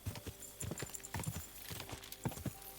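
Rhythmic clip-clop of horse hooves at a steady trot in the video game Kingdom Come: Deliverance II, fairly close, repeating throughout with a faint background hum.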